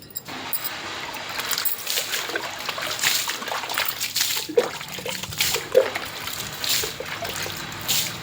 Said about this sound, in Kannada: ಬಾ ನೀರು ಹಾಕೋಣ ಬನ್ನಿ